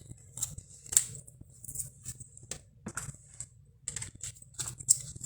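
Scissors cut out paper card shapes, a cloud and a windmill, at a card-making craft table, giving a series of short crisp snips and rustles at close range with brief pauses between cuts.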